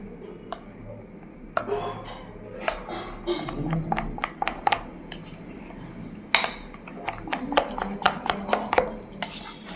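A spoon clinks and taps against a bowl while jaggery is stirred into bael fruit sherbet, an irregular run of close metallic chinks and scrapes.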